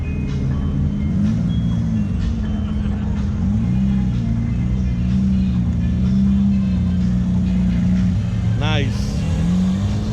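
A GT3 sports car at a Goldrush Rally gathering in Dallas, its engine droning loud and steady over the crowd noise before the car pulls away, while people talk nearby.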